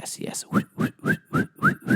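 A person whistles a quick series of about seven short, rising swoops in a steady rhythm, imitating the sound of aggressive swiping on a phone dating app.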